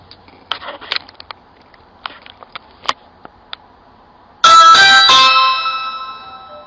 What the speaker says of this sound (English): suddenly switched to ringing the doorbell.